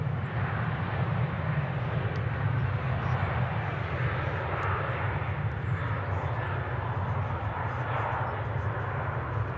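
A Boeing 737 taxis across the runway at Manchester Airport, a steady, continuous engine rumble and broad jet hiss heard from a distance, unchanging throughout.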